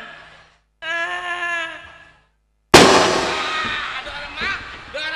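Firecrackers set off during an Indonesian comedy stage show: one sharp, loud burst follows a sustained tonal sound, then a crackling, noisy tail fades over a couple of seconds.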